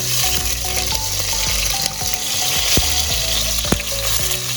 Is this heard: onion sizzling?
yes